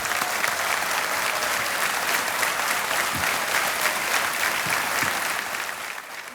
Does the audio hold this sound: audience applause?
yes